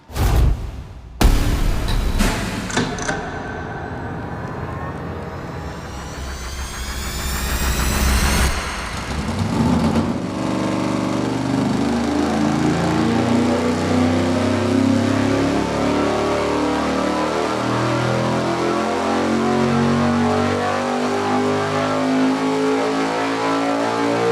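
A small-block Chevy V8 with a dual-plane intake fires up on an engine dyno, cranks and catches with loud revs, then settles into a steady, rumbling run that holds close and loud for the rest of the clip.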